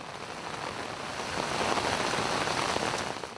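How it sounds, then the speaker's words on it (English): Floodwater from an all-night downpour cascades down from the mountains into a village drainage channel in Sai Kung, a dense, continuous hiss of rushing water that swells slightly louder partway through. "The all-night-long downpour triggered water cascade that rushed down from the mountains into the drainage channel of To Wo Heng village in Sai Kung."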